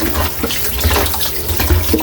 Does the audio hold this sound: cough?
no